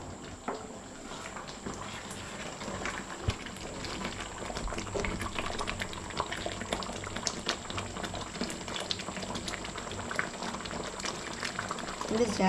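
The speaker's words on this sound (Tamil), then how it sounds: "குழம்பு நல்லா கொதிச்சுக்கிட்டு இருக்கு" Okra tamarind gravy, vendakkai puli kulambu, bubbles at a steady boil in a pot, a dense continuous simmering crackle heard up close at moderate volume.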